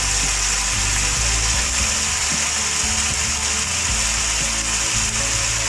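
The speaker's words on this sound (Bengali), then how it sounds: "ভালো করে মশলাটা কষিয়ে নেব" Spice paste being sautéed in a pan for a Bengali fish dish, giving a steady, dense sizzle with faint scraping and clatter throughout and no voices.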